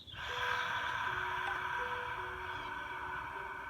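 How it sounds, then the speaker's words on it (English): Loud, steady breath pushed out through the mouth during a guided breathing exercise, a broad airy rush sustained for several seconds with a faint tonal hum beneath it and no talking. "We're inhaling through the nose and exhaling out of the mouth for a count of 6."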